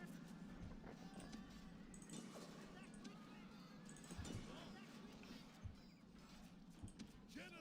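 Horse archers' hooves in a cavalry charge during an Empire: Total War battle, a dense rolling patter of many hoofbeats with faint jingling, continuous and moderately distant under a busy battle din.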